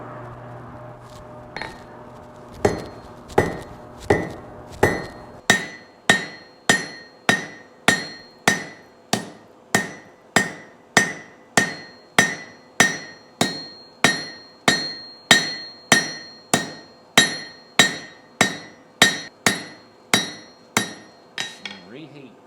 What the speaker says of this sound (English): I'm going to pull it out and start flattening this slug on the end.